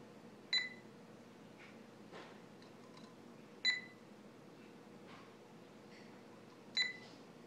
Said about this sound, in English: I'll give it like 5 more beeps and then it should go up.